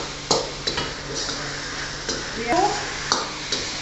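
Drunken noodles (pad kee mao) frying with sauce in a pan at a Thai street food stall, with steady sizzle and repeated clinks and scrapes of a utensil against the pan, while a voice speaks briefly over it.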